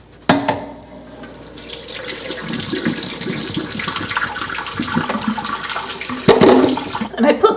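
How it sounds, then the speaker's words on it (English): Cooking water poured off boiled beets, a steady rushing stream of water splashing into a sink that runs continuously and fairly loud, with a brief clatter near the end. "Once the beets are done cooking, you want to drain the water out of there."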